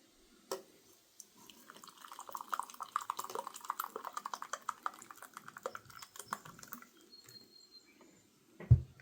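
Coffee pours from an MRE cup in a thin, splashy trickle that runs steadily for several seconds, close by, before a sharp knock at the end.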